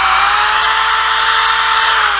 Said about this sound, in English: simply put your car on the scrap piece of wood, and then just drill in